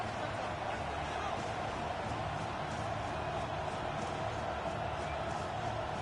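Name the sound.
stadium crowd getting loud before third down, football video game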